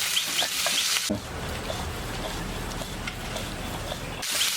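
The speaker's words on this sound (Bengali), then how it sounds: "মাছটা খুব সুন্দর করে এটা ভাজি হলো সব মাছ ভাজি হয়ে গেছে" Pakal fish (Bam fish) frying in a pan with a steady, close sizzle and crackle, broken by a brief sharper burst of spattering at the start and end.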